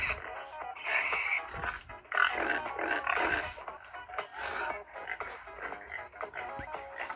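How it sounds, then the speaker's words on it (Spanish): A pig grunts and snorts in a string of rough, nasal oinks at moderate loudness, with scuffling and faint background noise between the calls. "¿Y cómo hace el cerdo?"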